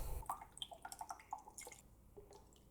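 Soy sauce is poured into a small mixing bowl, heard as a quick run of soft, wet drips and splashes, close and fairly quiet, with no talking.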